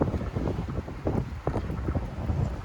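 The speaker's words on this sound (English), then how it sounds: "I get the wind kicking up here now. I think we're getting ready to get a little squall blow through." Wind gusting across an open outdoor spot as a squall approaches, a steady buffeting rush with repeated swelling gusts and low microphone rumble, no voices.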